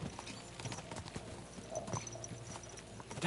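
Horses gallop in Kingdom Come: Deliverance 2, their hooves giving a quick, irregular clip-clop. The sound is faint, with soft rustling and tack noise around it.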